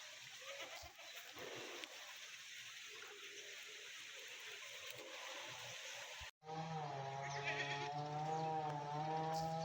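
A goat lets out a long, wavering bleat up close after a stretch of faint outdoor ambience.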